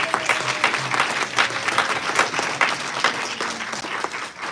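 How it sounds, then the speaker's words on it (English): A synagogue congregation at a Friday Shabbat service applauds members of over 40 years, steady dense clapping from a large crowd filling the room for several seconds, with faint voices beneath. "Let's give them all a round of applause."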